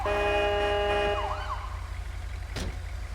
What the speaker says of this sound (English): Dispatch, I need an ambulance. Here's one now.